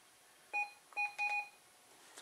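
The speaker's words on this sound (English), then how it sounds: "That's the Roger bleep." Roger bleep and key beeps from an Intek MT-5050 PMR446 handheld radio, three or four short electronic tones in quick succession, clear and close against a quiet background.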